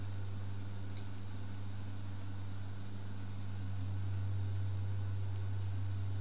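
A light aircraft's engine drones steadily in a flight simulator game after takeoff from Southend, a constant low hum with a strong bass tone and faint higher whine, unbroken and even throughout.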